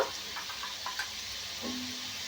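A paste of ginger, cumin and coriander sizzles steadily in hot oil in a home kitchen while being fried for a vegetarian cabbage and chickpea curry, with a soft constant hiss and a few faint clinks of stirring.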